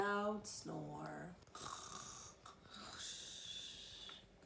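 A voice imitates a loud snore with a nasal, rattling inhale, followed by breathy, wheezing exhales, close and fairly quiet.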